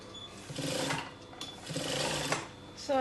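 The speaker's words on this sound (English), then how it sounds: "So all I'm going to do now is to hem the bottom all the way around" A sewing machine runs in two fairly loud, close bursts of rapid stitching as it hems the bottom edge of an A-line pinafore dress, with short pauses between runs.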